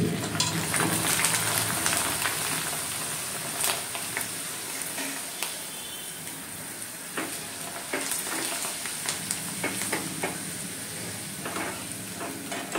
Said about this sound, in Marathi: आता तुम्हाला मी काही कुरडया इथे तळून दाखवते